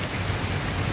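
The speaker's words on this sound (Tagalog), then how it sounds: "Ulan na naman." Rain falling in a steady, dense hiss with a low rumbling undertone, continuous and even throughout the short moment.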